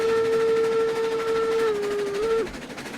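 A steam locomotive whistle from the video game RailRoads Online sounds one loud, steady, multi-tone blast of about two and a half seconds. Its pitch dips slightly near the end before it cuts off over a low rumble.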